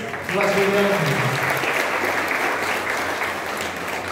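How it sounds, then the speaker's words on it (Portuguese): An audience applauds to welcome an honoured couple at an evening Santa Rita de Cássia festival celebration, with dense, steady clapping that swells in and holds loud for several seconds. "com nossas palmas, o acolhemos"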